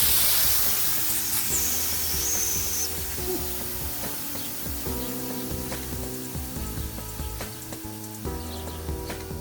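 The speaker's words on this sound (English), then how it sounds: "But if you're just changing a tyre, then press and hold. Try and get most of the air out as you can." Air hissing out of a bicycle tube's unscrewed valve as it is pressed and held during a tyre change, a steady broadband hiss that starts loud and slowly tapers, close, with faint clicks and tones behind.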